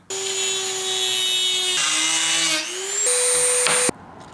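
A power tool whines steadily as it cuts through a metal bolt, its pitch stepping down and then up in several stages before cutting off abruptly, leaving a quieter hiss.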